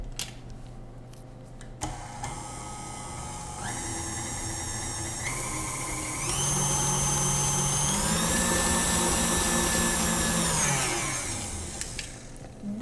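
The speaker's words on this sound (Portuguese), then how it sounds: "vamos ligar novamente a nossa batedeira" An electric stand mixer beating batter, its motor whine climbing through several speed steps to a loud steady hum before winding down near the end, close and without talk.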